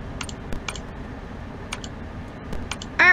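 Keyboard typing in the video game Freddy Fazbear's Pizzeria Simulator: sparse, sharp clicks in small clusters over steady background noise, ending in a louder burst of keys.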